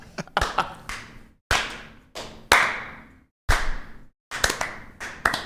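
Several sharp, loud hand claps spaced slowly apart with pauses between, each ringing out in a reverberant room.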